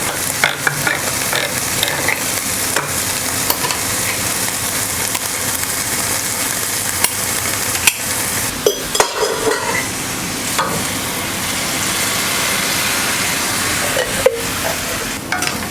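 Canned tomatoes tipped into a hot pan for butter chicken sauce and stirred, a steady loud sizzle with scraping stir strokes and a few sharp clatters, no voices.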